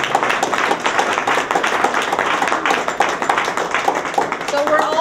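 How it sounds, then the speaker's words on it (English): Applause at a year-end meeting of an environmental group, a crowd clapping loudly and steadily with a few voices and cheers rising near the end. "Everyone give each other a round of applause."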